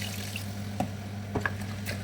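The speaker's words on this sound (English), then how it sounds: "Let's add some water to cook it." Water poured into a pot of tomatoes and coconut rice cooking on a gas stove, giving a soft, steady trickle over a low hum with a few faint splashes.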